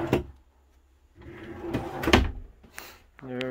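A storage drawer in a 2005 C & C four-horse reverse-load trailer with rear tack slides and knocks shut, a few short thumps and a scraping rattle, with someone talking briefly at the end.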